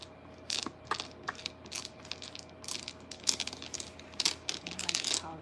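Small travel-size mahjong tiles click and clack together in quick, irregular bursts. The close, crisp taps rattle on continuously with no voices.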